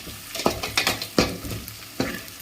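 Green chillies and cashews fry in ghee in a rice pan while a spoon stirs them, with a steady close sizzle broken by several sharp scraping strokes.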